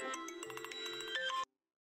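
A mobile phone ringtone plays a short bright melodic phrase at an evening home scene in an Assamese TV drama, then cuts off abruptly into silence.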